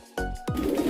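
Racing pigeons coo in a loft, two low, throaty, swelling coos close by, each rising and then sliding down, with a soft ruffling and murmur of other birds behind them.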